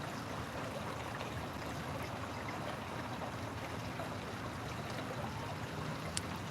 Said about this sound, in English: you hear this water? Like, you hear this and see this little, like, waterfall thing here? Dam sort of deal?